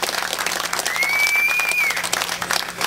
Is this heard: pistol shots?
no